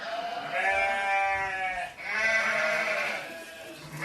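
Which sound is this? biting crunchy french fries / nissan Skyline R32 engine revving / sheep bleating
sheep bleating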